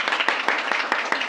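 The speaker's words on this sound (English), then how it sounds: "Give a big round of applause for Miss Fanda." An audience applauds a guest coming onto a stage, dense steady clapping from many hands, fairly close and loud.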